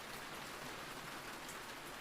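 Soothing rain falling steadily, a soft continuous hiss of drops on surfaces with no other sounds.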